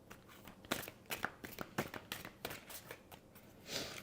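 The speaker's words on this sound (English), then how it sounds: "Let me get you one of these cards out." Tarot cards drawn and shuffled from a deck during a reading, giving a run of quick crisp riffling and sliding snaps, close and fairly quiet, with no talking over them.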